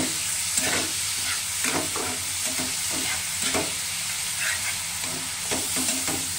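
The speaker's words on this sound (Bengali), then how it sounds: "এবারে যত সুন্দর কষানো হবে ততই খেতে ভালো হয় এই মাছের ঝালটা" Masala for a moorola fish curry being sautéed in a pan, with a loud, close, continuous sizzle broken by rhythmic stirring scrapes every half second or so, and no talking.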